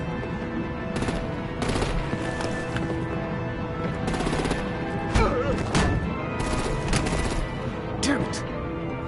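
Rapid bursts of machine-gun fire and heavy artillery blasts in the Batman: The Enemy Within video game, loud and close, with dense repeated shots and occasional booming impacts, and voices talking over the chaos.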